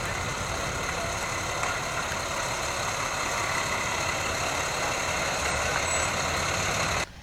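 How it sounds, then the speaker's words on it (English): A Bradford fire engine truck in a street parade rumbles past with a steady, dense engine roar and broadband noise lasting several seconds, fairly loud and continuous before cutting off abruptly, with no talk. "Bradford Engine Number 3."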